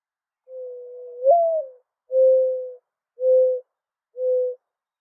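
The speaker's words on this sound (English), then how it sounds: "Let's listen to these fucking birds." A single bird coos in four soft, steady notes, the first longer with a rising lilt, each separated by short silences.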